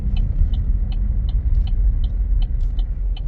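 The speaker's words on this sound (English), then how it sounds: "the sound of the turn signal on this car is different than anything else I've driven, and it's nice and subtle" The turn signal of a 2024 Buick Envista ticks in a soft, even rhythm, about nine quiet clicks over a low, rumbling cabin and road noise.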